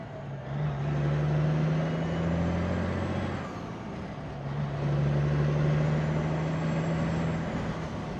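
Peterbilt 359 truck engine pulling through every gear, a deep steady diesel drone with two rising pulls separated by a brief dip at a shift, heard from inside the cab at moderate level.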